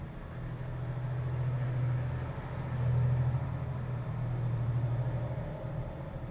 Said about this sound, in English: I apologize for the street noise outside.